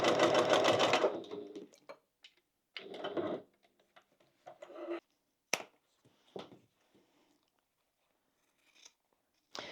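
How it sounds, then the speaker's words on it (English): A sewing machine runs a fast top-stitching burst along the top of a vinyl crossbody bag, loud and close for about a second, followed by short stop-start runs and clicks of handling. "So now we'll just top stitch along the top."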